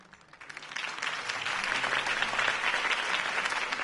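Crowd applause at a campaign rally for Harvey Dent in Gotham, a dense, steady wash of many hands clapping that swells in over the first second and then holds loud and even.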